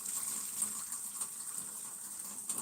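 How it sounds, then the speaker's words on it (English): Water pours from a tap at a spring house, a soft, steady gush that runs without a break and sounds fairly close. "I'm here getting this water at the spring water"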